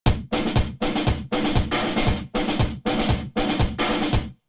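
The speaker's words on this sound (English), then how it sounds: "when you apply a harsh gate to it and distortion and saturation, it can sound like this" Gypsy-style percussion pushed through a harsh gate with heavy distortion and saturation: eight loud, evenly spaced bursts that cut off abruptly into silence, a gritty, crushed rhythmic pattern with no voices.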